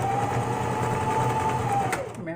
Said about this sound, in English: let me get this on the machine. So I'm going to sew up this one side.